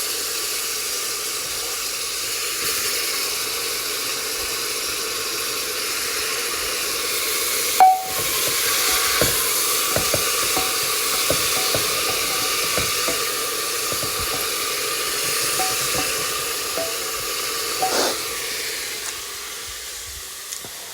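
Tomatoes tipped into a hot pan hiss and sizzle in a steady, broad wash, with a sharper burst where they land and a few soft clinks and taps above the continuous frying.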